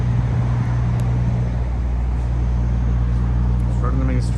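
Steady road traffic drones along a main street, a continuous low rumble of passing cars and engines heard close and fairly loud, with no voices over it.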